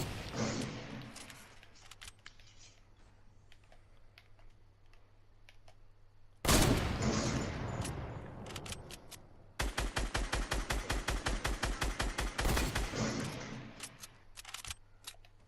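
Enemy gunfire in a battle royale video game: scattered shots early, then a loud burst and a long stretch of rapid automatic fire at close range.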